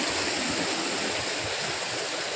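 Rushing water from a small waterfall fills the clip, a constant close roar of splashing flow with no voices.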